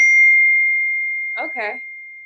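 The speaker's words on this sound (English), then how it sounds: "You hear the bell?" A single bright electronic ding rings out as a notification bell, its steady tone fading slowly over two seconds while a voice briefly speaks near the end.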